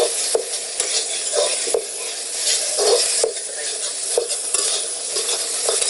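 Flaxseeds, about three large spoonfuls, are added to a pan for a sattvic vegetable dish and stirred. There is a steady bright sizzle of frying with regular scraping strokes of a spoon, close and alone with no voice.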